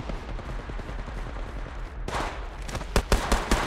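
Gunfire in the battle royale game Apex Legends, starting as a dense rattle midway and ending in several loud, sharp separate shots close up over low game rumble.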